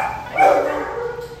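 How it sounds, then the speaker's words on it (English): A single short bark or yip from a four-month-old male puppy, close and fairly loud, trailing off into a faint whine. "I think it's predominantly the one that's kind of barking."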